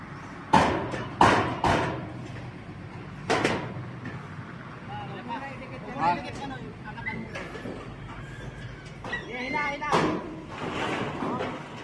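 Hammer blows on tech screws during a Tilespan metal roof installation, several sharp thuds clustered near the start, then scattered knocks, heard under ongoing talk.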